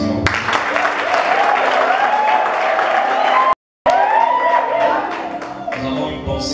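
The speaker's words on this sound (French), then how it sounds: "J'aimerais qu'on acclame le Seigneur." Church congregation cheering and applauding to acclaim the Lord, loud continuous clapping with whoops and shouts, a brief dropout in the middle, then the cheering tapers off.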